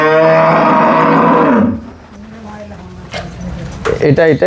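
A dairy cow at a cattle market in Dinajpur gives one long, loud, close moo, followed by softer farmyard sounds and people talking.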